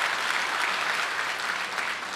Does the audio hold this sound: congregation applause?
yes